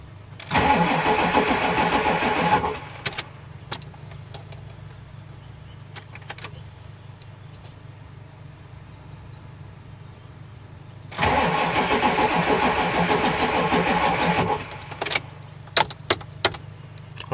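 Ford F350 OBS pickup engine cranking in two long bursts of rapid starter chugging several seconds apart, close and loud, without catching, with faint clicks and clatter between attempts.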